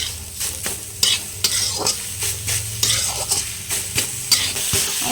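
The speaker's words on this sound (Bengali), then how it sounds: "ঘিয়ের মধ্যে মিনিট খানেক ভেজে নেব।" Boiled, drained papaya frying in ghee with sugar on an electric heater, a steady close sizzle broken by repeated scraping stirs of a spatula against the pan.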